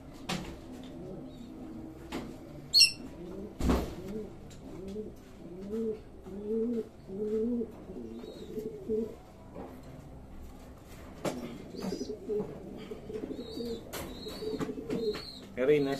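Young summer-bred pigeons in a loft give soft, low rolling coos in repeated bursts, with a few sharp knocks and faint clatter around them and someone speaking at times.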